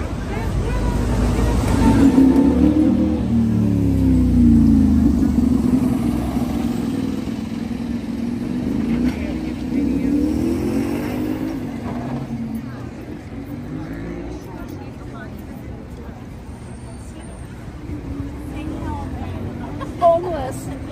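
Retro cars move along a Broadway film set in New York, a low rumbling engine and traffic drone that swells and fades over about twenty seconds, with voices talking over it.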